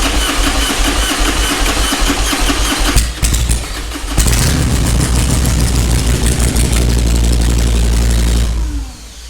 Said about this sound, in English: the starter is still going